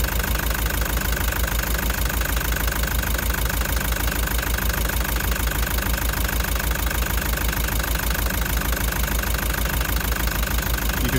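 Car engine idling with a cracked piston, a steady close rumble carrying a fast, even knocking rhythm throughout, with no voices present.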